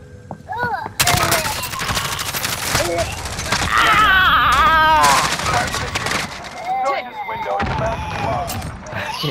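Rapid SMG gunfire from the Warzone video game bursts loudly and near, with dense crackling volleys and in-game effects, while players talk over the shooting.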